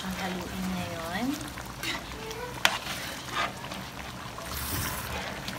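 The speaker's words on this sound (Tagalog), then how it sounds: "So, pwede na natin siyang haluin ngayon." A spoon stirs Filipino-style laksa soup in a pot, sloshing and bubbling with a few sharp clinks, while a voice speaks softly over the moving liquid.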